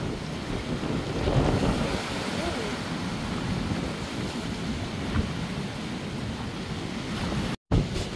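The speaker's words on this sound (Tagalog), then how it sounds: "Ang gandang panoorin ng alon." Ocean waves breaking on a windy shore at Milos, Greece, with a steady broadband roar of surf throughout, wind buffeting the microphone, and a brief dropout near the end.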